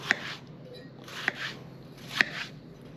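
A knife slices through a tortilla wrap on a cutting board in a home kitchen, making three evenly spaced crisp cuts, each a short soft rustle ending in a sharp tap on the board.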